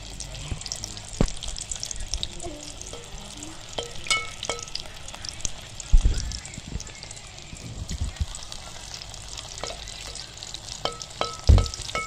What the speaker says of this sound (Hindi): देखो मैं डीप फ्राई करने लगी हूँ